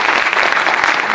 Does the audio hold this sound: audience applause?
yes